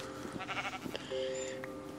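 Sheep in the video game Minecraft bleat a couple of times, short nasal calls over a quiet game background, with no one talking.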